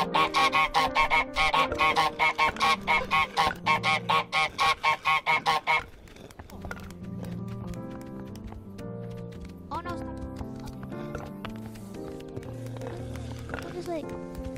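Cartoonish goose honks from Untitled Goose Game repeat in a quick, loud burst over the first half, then give way to lighter plucked game music with scattered sounds.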